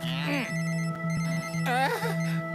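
A steady electronic mobile phone ringtone runs throughout a cartoon scene, with a voice talking over it in bursts.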